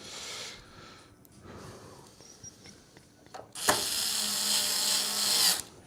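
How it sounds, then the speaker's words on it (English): A power drill drives screws into a HAVN BF360 PC case: short whirring bursts early, then a long, loud, steady high-pitched whine near the end, with no talking. "I'll get the rest of these screws in."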